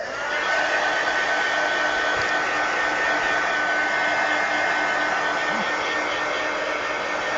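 A hair dryer blows steadily and loudly over a coloring page, a constant close airy roar with a faint whine that holds without pause throughout.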